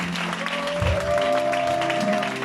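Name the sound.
church congregation applauding the Lord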